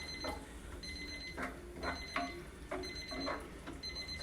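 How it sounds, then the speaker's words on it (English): A kitchen timer goes off during cooking, sounding a repeating electronic beeping pattern in regular short bursts, fairly faint and alone. "let me turn my timer off"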